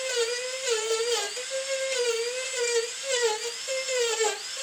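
A Marathon micro motor spins a diamond burr carving a surface, a continuous high whine that dips and rises in pitch as the bit loads and frees, close and moderately loud.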